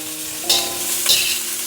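Shrimp and garlic fry in a wok with a steady close sizzle, two bright scraping stirs of a utensil cutting through, all without voices.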